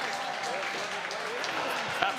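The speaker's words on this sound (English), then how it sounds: "Crowd is going wild." A crowd at a professional skateboarding league match cheers and applauds in a steady, dense roar after a win, while a commentator talks over the noise.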